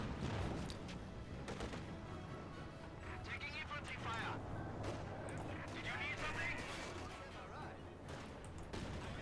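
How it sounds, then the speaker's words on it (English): Gunfire and a rifle grenade shot in a Company of Heroes 2 battle, with steady bursts and booms running through the whole stretch over continuous game noise; a commentator talks throughout. "Rifle grenade was fired but was dodged."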